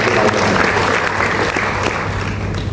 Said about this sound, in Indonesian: Ayo tepuk tangan yang meriah untuk kita.